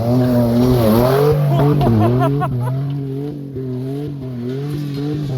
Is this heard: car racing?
yes